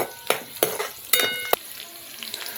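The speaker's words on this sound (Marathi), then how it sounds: "तर थोडीशी मिरची आणि लसूण जराशी फ्राय करायची." Chili and garlic frying in a pan over a wood-fired clay stove crackle and sizzle in short close bursts, with a few stirring scrapes in between.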